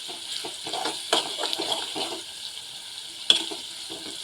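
Fish roe bhurji fries in oil with red chilli powder in a pan, giving a steady close sizzle. Stirring scrapes and light clatters come through, and a sharp metallic clink sounds near the end.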